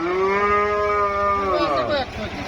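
Loud, close cattle moo at a busy cow market, a single long drawn-out call that rises and then falls away, with faint voices and crowd noise underneath.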